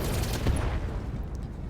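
Mech weapons firing in the Battletech video game make a dense, booming roar, with one sharper burst standing out from the continuous barrage.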